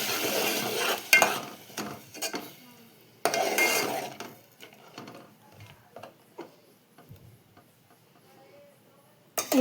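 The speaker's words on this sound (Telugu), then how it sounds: "ఇందులోకి మనం మిక్స్ చేసుకున్న ఈ టమాటా ప్యూరీని యాడ్ చేసుకుందాం. యాడ్ చేసుకొని ఒకసారి అంతా కూడా కలుపుకోవాలి." Tomato puree is stirred into a pot of rasam with a spoon, giving intermittent scraping and clinking strokes in bursts separated by near-silent pauses.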